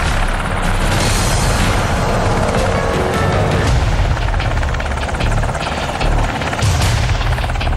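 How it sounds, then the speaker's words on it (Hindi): Heavy military helicopter rotors thud and roar as US aircraft lift off, a loud, dense wash of low-end beating with rumbling bursts, steady throughout. "पाकिस्तान से लगती अफगानिस्तान की सीमा से 4 अमेरिकी हेलीकॉप्टर बेहद खामोशी से उड़ान भरते हैं।"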